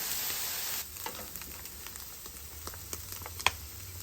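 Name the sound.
potatoes frying on a Weber gas grill griddle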